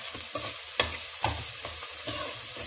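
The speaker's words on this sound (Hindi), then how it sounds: "प्याज को हम सॉटे कर लेंगे और साथ में हम डाल देंगे हरा लहसुन" Chopped onion and green garlic sauté in a pan during home cooking, giving a steady sizzle broken by a few distinct scraping stirs of the spoon, close and clear with no talking.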